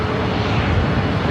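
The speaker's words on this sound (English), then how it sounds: "Very rare north side takeoff for that Dreamliner." A United Airlines Boeing 787-9 Dreamliner takes off from a north side runway, bound for Dulles, with a steady, loud, broadband jet roar that holds evenly throughout and has no voices over it.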